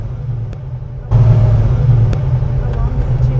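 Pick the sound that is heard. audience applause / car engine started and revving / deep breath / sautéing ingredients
car engine started and revving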